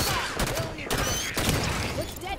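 Dense gunfire in the Halo 5: Guardians video game, rapid overlapping shots and bursts in a loud, busy firefight, with voices shouting over the shooting.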